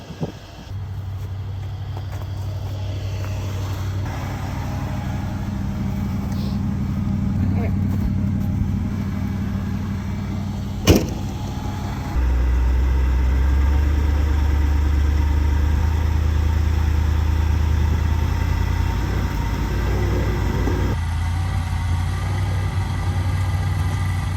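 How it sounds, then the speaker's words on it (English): Campervan stuck in a snowbank, its engine idling and then rising into a louder, steady revving drone as a tire spins, with people talking throughout. "That tire's spinning, right?"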